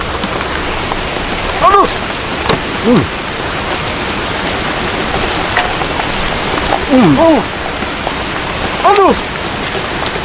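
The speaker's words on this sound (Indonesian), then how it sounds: "Hujan euy." Heavy rain pours steadily and loudly throughout, a dense continuous wash on a surface, while people talk and exclaim over it at intervals.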